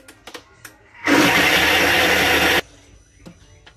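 A Thermomix blends gazpacho at speed 10, a loud, steady whirring roar that runs about a second and a half close by, then cuts off abruptly into quiet kitchen clatter.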